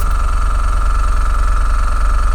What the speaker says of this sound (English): Compressor just kicked in, and it's working nicely.